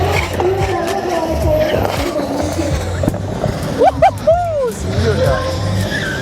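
A drift car on a purpose-built drift and gymkhana event track at Impact Speedfest in Thailand: engine drone runs throughout, then a few sharp tyre squeals rise and fall near the middle, with people talking over it.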